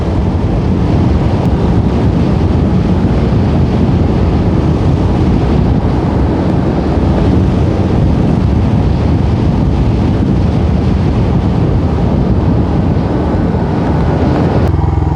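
Heavy, constant wind buffeting roars loudly across the whole span, the noise of riding a motorcycle with an open-face helmet near Tagaytay, with no voices.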